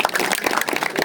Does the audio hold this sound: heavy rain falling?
no